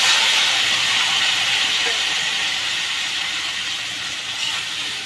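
Water poured into a hot pan of potato and okra curry, giving a loud, steady steam hiss that fills the whole stretch and fades only slightly toward the end.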